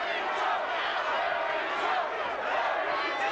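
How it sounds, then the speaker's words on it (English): A boxing arena crowd cheers and shouts in support of fighter Mary Jo Sanders, a steady, dense roar of many voices at moderate level throughout, with no single voice standing out. "Now the crowd trying to get behind Mary Jo."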